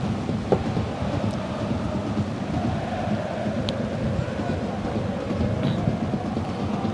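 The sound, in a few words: rain pouring on a football stadium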